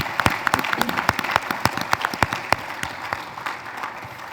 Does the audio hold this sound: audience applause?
yes